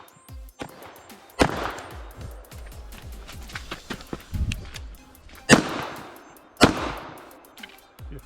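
Pistol gunshots ring out on a stage at the Chesapeake Cup shooting competition, several loud sharp cracks spaced irregularly, with metallic clatter and quieter clicks between them.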